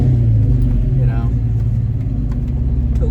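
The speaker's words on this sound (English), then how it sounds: "I figured I'd let you guys hear the car" A new GT car's engine running during a drive, a loud, close low rumble inside the cabin that continues steadily while someone talks over it.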